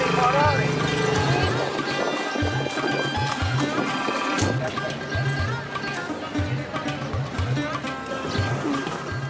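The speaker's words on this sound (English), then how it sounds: "One fun ride we took was in a horse-drawn surrey." Horse hooves clip-clop in a steady rhythm as a horse-drawn surrey rolls along a busy street in Egypt, the hoofbeats close and clear over continuous traffic and crowd noise, with people talking nearby.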